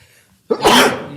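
A single sharp sneeze bursts out in a quiet courtroom during a criminal trial, loud and close after a near-silent pause, then trails off over a second.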